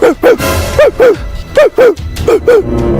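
A voice imitating a dog barking, loud and close: a rapid series of yelping 'bow-wow' barks in pairs, repeated several times with short breaths between.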